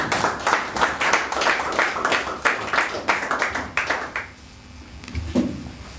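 Church congregation clapping hands in a steady rhythmic beat, fairly close and lively, running for about four seconds before stopping abruptly into near silence with a faint voice.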